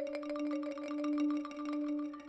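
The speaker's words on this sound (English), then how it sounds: "I decided to use this tape marimba sound." Tape marimba sound playing a steady run of rapid, evenly spaced mallet notes over a sustained two-note drone, with a gently echoing delay tail, close and without talk.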